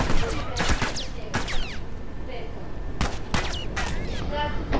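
Burst rifle in a shooter video game, firing in quick clustered bursts of rapid cracking shots over a dense, constant game soundscape, loud and close, with brief gaps between bursts and no clear talk.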